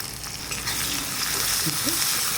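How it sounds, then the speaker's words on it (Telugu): Sliced onions and curry leaves fry in hot oil over tempered seeds while bitter gourd fry is being made, giving a steady close hiss and sizzle with a few soft stirring sounds. "ఈ ఉల్లిపాయలన్నీ కొంచెం వేగాలన్నమాట"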